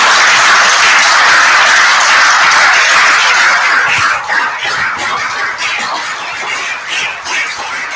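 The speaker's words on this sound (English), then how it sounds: "Can we have a huge round of applause" Audience at a direct selling gathering in West Bengal giving a round of applause; a broad, steady wash of clapping that starts loud and eases somewhat in the second half.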